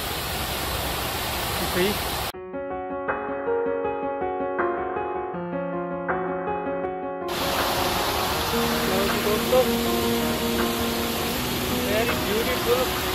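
A fountain at the entrance of Melbourne's Shrine of Remembrance, amid lawns and parkland, gives a steady broadband rush of splashing water at the start and again at the end, interrupted by a stretch of tonal music, with a voice talking.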